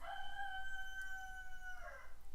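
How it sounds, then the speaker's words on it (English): A backyard rooster crows one long drawn-out cock-a-doodle-doo, clear and moderately close, holding steady before falling off at the end over a faint low hum. "my chickens are going nuts, so yeah, they're just going to be in the background singing the song of their people"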